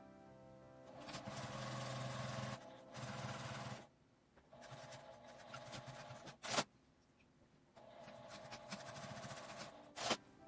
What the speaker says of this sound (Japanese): ワイヤーの入り口を開けて端ミシンをかけます